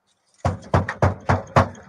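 Police knock on a door to serve a search warrant: five firm, evenly spaced raps, close and loud, after a brief silence.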